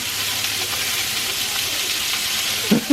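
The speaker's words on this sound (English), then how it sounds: "Gyoza cooking in a cast iron frying pan." Gyoza fry in a cast iron pan with a continuous, close sizzle that stays steady throughout, ending with a couple of soft knocks near the end and no talking.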